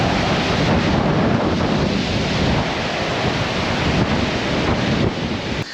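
Strong wind at a seaside viewpoint: loud continuous buffeting roar across the microphone, with a surf-like rush underneath, sustained throughout and cutting off abruptly at the end.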